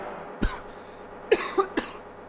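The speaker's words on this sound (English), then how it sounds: "Sorry, I'm coughing." Three sharp coughs from one person, the first alone and two more in quick succession about a second later, close and fairly quiet over a steady low background hum.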